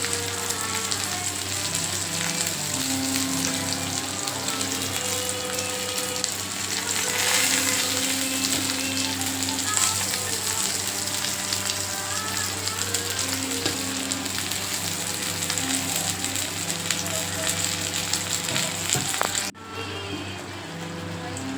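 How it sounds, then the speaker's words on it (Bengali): Potato and pointed gourd pieces fry in hot oil, giving a steady, close sizzle with faint stirring and scraping, and a brief dip near the end. "আলু আর পটল ভাজা হয়ে গেছে"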